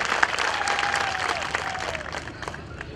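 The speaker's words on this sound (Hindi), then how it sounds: "हम चाहेंगे एक बार जोरदार ताली बजा के आप लोग स्वागत करें माननीय नेताजी का।" A crowd at a political party rally in Mumbai breaks into loud, sustained applause to welcome the party leader onstage, steady dense clapping with some voices mixed in.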